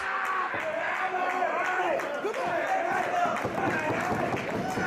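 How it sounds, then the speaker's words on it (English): A professional wrestling crowd at a Beyond Wrestling match cheers and claps in appreciation. The roar is broad and continuous, with scattered claps and thuds, and a commentator talks over it throughout. "this crowd is showing their appreciation for this gutsy display."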